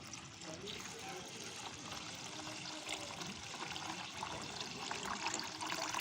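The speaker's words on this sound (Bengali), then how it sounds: "এখন আমি পানি দিয়ে দেব।" Water is poured into a pot of broken rice with green chilies, onion and salt, making a faint, steady trickle and splash that runs for several seconds in a quiet kitchen.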